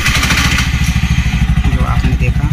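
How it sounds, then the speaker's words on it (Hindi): A CNG BS6 auto rickshaw engine running with a steady, loud, rapid low thumping and clatter throughout, a mechanic's voice faintly audible over it. "और इंजन को स्टार्ट करेंगे"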